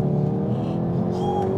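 Hyundai i30N with dual-clutch gearbox in manual mode accelerating hard, a close, loud exhaust drone rising steadily in pitch over a short burst.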